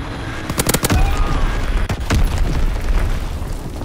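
An Azon bomb strike in a ranked hardpoint match on a forest map in a shooter game sets off a rapid cluster of loud, heavy booms and blasts up close, then a sustained rumbling roar.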